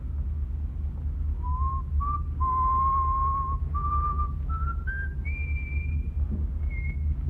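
Someone whistles a slow, wandering tune in an old-time radio drama, each note held and gradually rising in pitch, over a steady low rumble.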